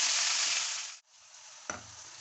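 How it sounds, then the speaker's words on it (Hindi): Onions fry to light brown in spiced oil for black pepper chickpea curry: a loud sizzle cuts off sharply, then resumes softer, with a single metallic clank near the end. "अब हम इसमें ये जो है ना प्याज ये डालेंगे और इसको हम लाइट ब्राउन करेंगे"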